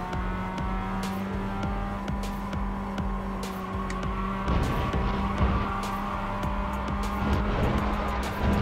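A race car in a sim racing game slides wide off a corner, with its engine droning steadily and its tires scrubbing and squealing in bursts throughout.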